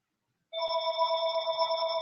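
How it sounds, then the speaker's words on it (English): A telephone starts ringing after a moment of silence, a steady electronic ring that continues clearly and alone. "That's a phone. What's it ringing for?"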